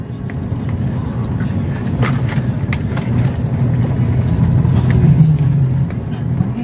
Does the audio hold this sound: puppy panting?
no